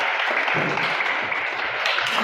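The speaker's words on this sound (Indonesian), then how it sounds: "silakan berikan aplaus untuk kelompok 4" Steady applause from a classroom of students clapping for a discussion group's presentation, a dense continuous patter of many hands lasting a couple of seconds with no talk over it.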